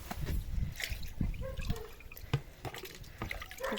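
Liquid fertilizer being stirred into a bucket of well water, with close sloshing and dripping splashes in uneven bursts and a few knocks against the container.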